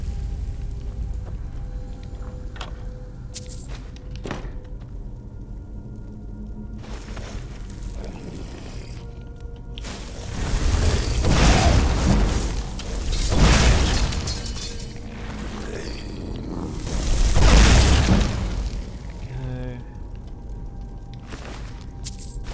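A trap triggers in Skyrim's Saarthal dungeon, producing a series of heavy, rumbling booms and crashing bursts that swell and fade over a quieter ambient game background.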